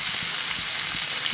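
Fish fries in a shallow pan of coconut oil, giving an even, close, unbroken sizzle for a brief moment with no one speaking.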